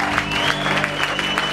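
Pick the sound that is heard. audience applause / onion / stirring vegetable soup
audience applause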